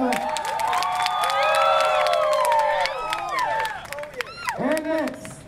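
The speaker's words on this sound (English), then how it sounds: "Everybody give her a hand clap." Crowd at a university homecoming pep rally cheering and clapping, loud and sustained with shouts and whoops, voices rising over the applause before it thins out near the end.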